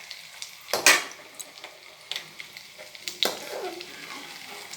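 Potato balls frying in hot oil give a soft, continuous crackle, broken by a few sharp clinks and scrapes of a metal utensil against the pan.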